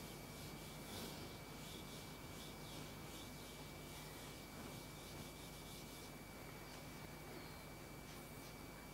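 Writing being rubbed off a board during a maths lesson, a continuous soft scrubbing swish that comes in repeated strokes, close, faint and steady, with no talk.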